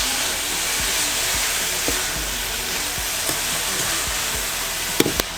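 Radish (mooli) curry with its leaves cooking on a stove, giving a steady soft sizzle and hiss throughout with occasional faint clicks and taps near the end.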